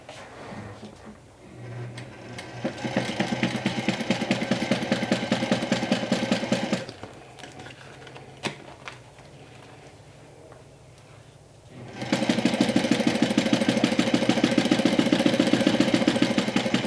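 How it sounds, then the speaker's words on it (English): A walking foot sewing machine stitches a cosmetic bag with binding, giving a steady rapid mechanical chatter in two long runs separated by a quieter pause with small handling clicks, close and without speech. "In love with this walking foot machine."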